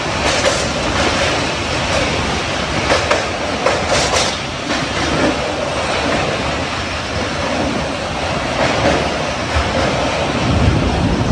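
The Sangamitra Super Fast Express rolls along the tracks near Gudur, a loud continuous rumble with rhythmic clickety-clack of wheels heard from inside the train, no talking.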